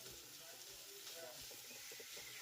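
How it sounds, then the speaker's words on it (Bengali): Chopped onions fry in a pan with a soft, continuous sizzle and hiss, faint and steady, with light stirring scrapes and no talk. "বড় সাইজের দুটো পেঁয়াজ কুচি পেঁয়াজটাকেও খুব ভালোভাবে একটু ভেজে নেবো"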